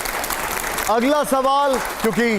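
An interview audience applauds, a dense wash of clapping running throughout while someone speaks over it.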